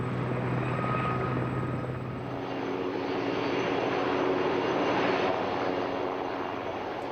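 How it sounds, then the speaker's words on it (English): Helicopters hover overhead at an RAF Fairford air show, with a steady, loud rotor thrum and engine roar that swells slightly and holds throughout. "behind them hover the helicopters"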